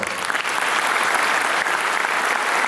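A conference audience at the 2021 Street Cop Conference gives a loud, steady round of applause for Ralph Friedman, continuous throughout with no pauses.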